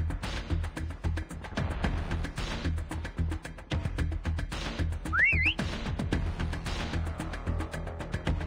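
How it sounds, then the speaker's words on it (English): A short rising whistle signal sounds once, midway through, over dense gunfire-like clatter and game noise in the holiday Raid map of Call of Duty Mobile's Prop Hunt mode. "Next whistle in 10 seconds."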